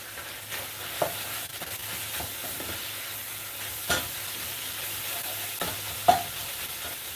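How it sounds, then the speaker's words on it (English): Samosa filling being stirred in hot oil in a pan, with a soft steady sizzle and a few distinct scrapes and clinks of the utensil against the pan, close and moderately quiet, no voices. "So I'm going to add a little bit of oil. Okay. And then of course stir."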